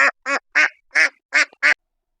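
A duck quacks six times in quick, evenly spaced bursts, loud and close, then falls silent. The quacks are heard alone, with no talk.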